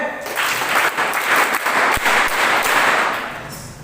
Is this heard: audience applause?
yes